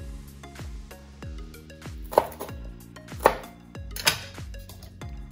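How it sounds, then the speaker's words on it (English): A food processor chops halved garlic cloves and vegetables for meatloaf, giving a run of quick, close, rhythmic blade pulses with a few sharper clattering knocks, no talking. "So now we'll use our food processor to chop these up."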